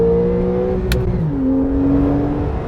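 A Porsche 911 4S engine pulls hard at full throttle, a loud steady drone from inside the car with the pitch holding and then rising smoothly after a quick gear change, no voices.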